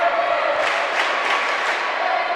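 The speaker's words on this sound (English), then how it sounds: "The crowd's into this." A packed arena crowd roars steadily at a college volleyball match between Murray State and Jacksonville State in the 2016 OVC tournament, a continuous loud wash of cheering with no breaks.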